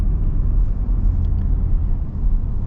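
A Ford F-150 Tremor with a naturally aspirated 5.0L Coyote V8 driving, a loud, steady low rumble filling the cabin without any voices.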